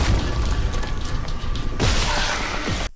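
Exploder necromorph pustule bursting in the sci-fi horror game Dead Space, a loud booming explosion that hits abruptly partway through, following a dense rumbling, crashing game soundscape with no talk.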